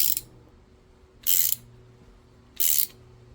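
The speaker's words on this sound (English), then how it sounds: "Firstly screw it in place by hand and then tighten it with a ratchet." Three short bursts of a ratchet clicking as it tightens a brake pipe flare tool during a brake line repair on a 2006 BMW E46, each burst about a quarter second, close and clear with quiet gaps between.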